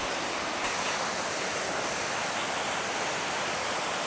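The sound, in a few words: small waterfall on hiking trail in Bulgaria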